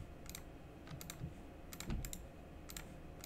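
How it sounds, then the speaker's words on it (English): Keys on a computer keyboard are tapped in small clusters of quick clicks, close and faint, with brief pauses between the bursts and no talk. "I just hit 2 on my keyboard"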